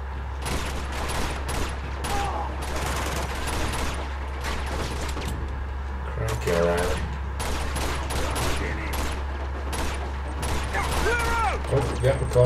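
Machine gun fire from the Uncharted 2: Among Thieves video game, rapid bursts of shots crackling throughout over a constant low hum, with mechanical clanks and people talking at moments.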